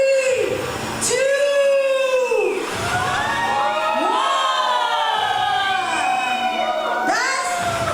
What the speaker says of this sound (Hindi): तालियों की बौछार दे दीजिए, जरा सीटियों की भी मतलब बरसात कर दीजिए, जोरदार तालियां।